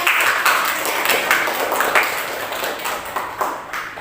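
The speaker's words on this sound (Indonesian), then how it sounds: "tepuk tangan untuk Naila" A class of schoolchildren claps for a classmate in a classroom after heavy rain and flooding in Cipicung village, the loud, steady patter of many hands filling the room with no voices over it.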